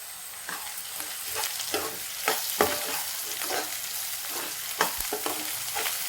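Onions fry in a pan with ginger-garlic paste and turmeric for a chicken fry, giving a steady sizzle broken by repeated scraping stir strokes, close and alone with no talk.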